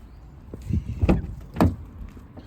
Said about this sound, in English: Let me just get that driver's door open and show you inside.